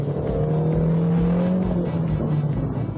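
The 84-horsepower engine of a Rover CityRover drones loudly and climbs steadily in pitch as it accelerates, heard from close up inside the car, with no talking.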